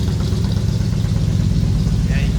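A 1985 Chevrolet K10 Silverado 4x4 pickup with new dual exhaust idles with a deep, steady burbling exhaust rumble, close and continuous, with a faint voice briefly audible.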